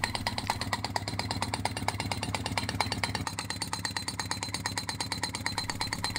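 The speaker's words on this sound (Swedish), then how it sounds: "Från ett av hålen riktas tryckluftsporren noggrant in mot målet." A compressed-air soil piercing drill hammers steadily underground for a broadband installation, producing a fast, even pneumatic rattle with a running engine hum beneath it, loud and continuous throughout.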